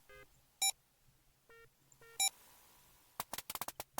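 Keypad tones sound as a code is entered in the video game Leisure Suit Larry 5: several short separate beeps at uneven intervals, then a rapid cluster of sharp clicks and tones near the end, all crisp against near silence.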